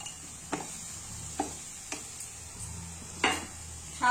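Chopped vegetables for pav bhaji fry in a pan, a soft steady sizzle broken by periodic clinks and scrapes of a spoon stirring against the pan, about every second.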